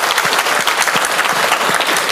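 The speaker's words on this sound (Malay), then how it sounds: "kita berikan tepukan pada beliau, tuan dan puan-puan." An audience at an evening public forum applauding, dense sustained clapping from many hands filling the room, with no talk over it.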